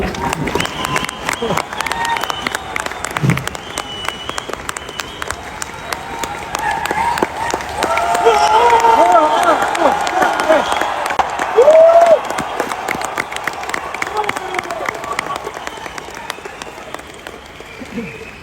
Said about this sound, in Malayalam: കൈയടിച്ചാൽ നിങ്ങൾ കൊള്ളാം.